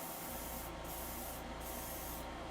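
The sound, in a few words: airbrush spraying primer on model kit parts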